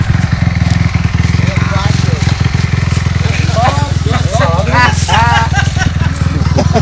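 A motorcycle on a dirt trail, its engine droning steadily and loudly close by throughout, while people shout and talk over it.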